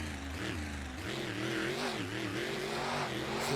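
A monster truck's engine roars and revs continuously during a freestyle run at a Miami event, loud and close, with rising and falling pitch as the throttle is worked, no talk over it.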